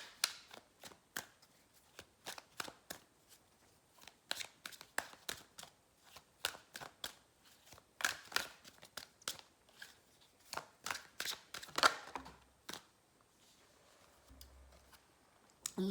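Oracle cards being shuffled and pulled by hand, a long run of crisp riffling flicks and snaps in irregular bursts, close and quiet, with a few soft thumps near the end.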